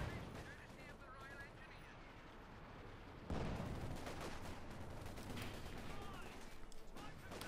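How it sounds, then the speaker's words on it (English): Artillery fire in Company of Heroes 2 bombards a position, a dense, continuous mix of booms and crackling battle noise that grows suddenly louder partway through. "Artillery fire there, bombarding the basic position behind increasingly diminishing number of barrels as they blow up"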